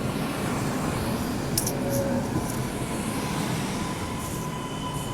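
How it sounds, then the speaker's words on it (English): A train passes on a chilly winter morning, a steady broad rumble with rail noise and a faint high wheel squeal, continuous and fairly close, with no talking. "And it's the train."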